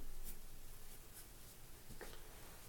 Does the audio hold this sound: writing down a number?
yes